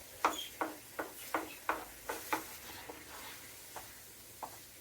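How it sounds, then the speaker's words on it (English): Pork fried rice with egg, meat and vegetables is stirred in a pan, about ten rhythmic scraping strokes close up over a light sizzle, slowing toward the end, with no talking. "We'll stir it all up."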